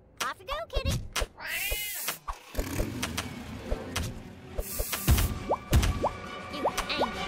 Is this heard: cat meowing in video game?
yes